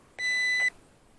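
An Eachine E130 4-channel RC helicopter gives a single clear electronic beep on arming, a steady high-pitched tone of about half a second, close and alone against faint outdoor quiet.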